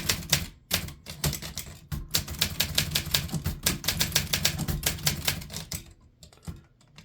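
Rapid typing on an Olympia SM8 manual typewriter: a fast, steady run of sharp key strikes with heavy mechanical clacks, close and loud, slowing to a few scattered keystrokes at the end, with no talking.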